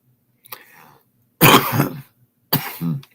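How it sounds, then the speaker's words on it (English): A person coughs or clears their throat in three bursts: a faint first one, then two loud, harsh coughs close by. "No, I guess a little cough."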